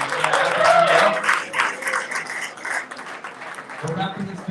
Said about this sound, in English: big round of applause for everything